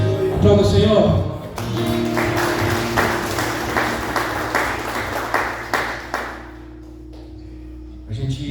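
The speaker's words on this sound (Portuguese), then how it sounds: "Aplauda o Senhor" Rhythmic clapping in a steady beat during a church worship service, alongside sustained music and singing voices, fading toward the end before a brief thump.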